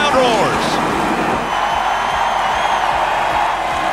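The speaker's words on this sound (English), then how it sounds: "Caution comes out and the crowd roars!" A NASCAR race crowd roaring in the grandstands after a crash sends a car into the wall, a broad sustained roar and cheering from a large crowd, with a voice talking over the top and faint engine whine.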